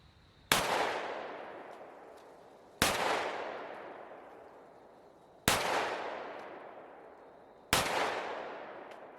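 A pistol fitted with a Crimson Trace Railmaster CMR-201 laser sight fires four loud, evenly spaced shots at an outdoor shooting range, each a sharp crack followed by a long echoing decay.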